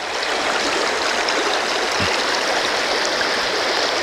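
A steady, full rush of flowing stream water, close and loud, continuous throughout with no voices.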